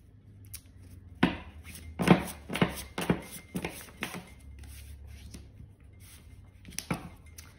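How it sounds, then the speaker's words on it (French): Oracle cards being shuffled by hand, a series of quiet papery slaps and rustles in irregular bursts, close by in a calm room. "on va mélanger un peu hein, tous les oracles"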